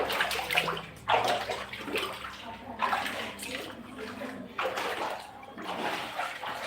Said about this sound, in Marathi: खाली पाणी येतील ना